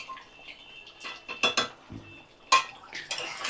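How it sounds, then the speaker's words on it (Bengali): Mutton cooking with spices in a pot while a metal spoon stirs it, giving irregular clanks and scrapes against the pot with brief quiet gaps between strokes. "তো আমি কিছুক্ষণ ভালো করে নাড়াচাড়া করে নেব, নিয়ে মাটনটা কষিয়ে কষিয়ে রান্না করতে হবে।"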